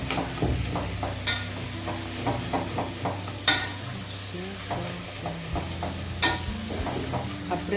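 Tomatoes are stirred and mashed in a sizzling pan while tomato kuzhambu cooks, giving soft scraping strokes over a low steady fry, with a few sharper spoon taps on the pan.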